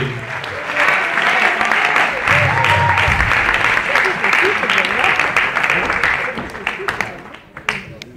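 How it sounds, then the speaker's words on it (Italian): A live audience applauds a performer being introduced on stage at a small local show, a dense steady wash of clapping lasting several seconds before tapering off near the end, with a voice briefly heard over it. "Un bel applauso per lui."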